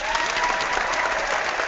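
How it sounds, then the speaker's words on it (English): A short applause sound effect played on a talk show: an even burst of crowd clapping that stays level throughout, slightly muffled and thin in the top end. "And the applause works magically."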